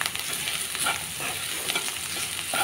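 Chili powder stirred into bitter gourd frying in a pan, a steady close sizzle with soft scraping stir strokes throughout.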